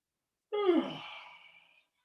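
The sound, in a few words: yawn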